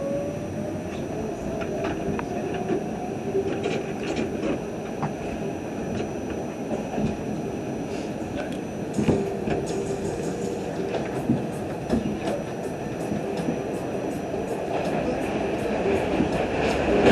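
An R68 D express subway train rumbles along the tracks with steady roar, rattling clicks and metallic squeals, loud and close.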